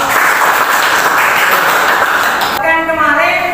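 A high school class claps together in a steady, dense round of applause that fills the room, then it cuts off and a voice begins speaking.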